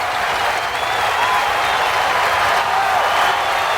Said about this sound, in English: the handshake line commences at center ice as the fans cheer on their teams